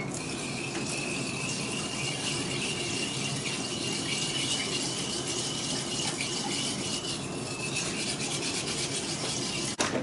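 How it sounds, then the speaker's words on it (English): A whisk rubs and scrapes steadily through a sugar mixture in a bowl, dissolving the sugar for homemade peach ice cream; a continuous close rasping swish runs the whole time with no talking. "we're just going to whisk this for a minute or two to get that sugar to dissolve"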